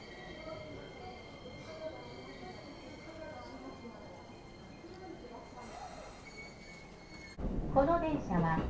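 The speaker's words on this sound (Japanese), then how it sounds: "朝の高崎線始発電車に乗っていきます。" Inside a first-of-the-morning Takasaki Line local train in Japan, a low, steady rumble of wheels and motors runs underneath, swelling louder and rougher near the end.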